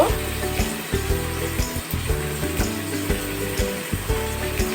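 Onions fry in hot oil for a Bengali dish of fried potato and rohu fish roe, a loud, continuous sizzle with rhythmic pulses as the pan is stirred, no voices.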